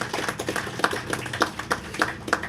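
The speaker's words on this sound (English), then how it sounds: "And I want you to give him a wonderful round of applause." An audience at a rehabilitation project signing ceremony claps for a visiting ambassador, producing scattered, uneven hand claps at moderate volume that sound like a small crowd applauding nearby.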